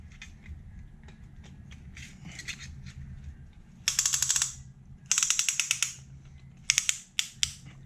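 A hand ratchet tightens a piston ring compressor on a Honda CRX Si engine, giving close, crisp runs of rapid clicks in several separate bursts against a low background hum.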